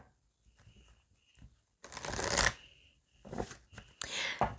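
Oracle cards being shuffled in bursts, soft riffling rushes repeating close by with quiet pauses between, while a faint tone sits underneath.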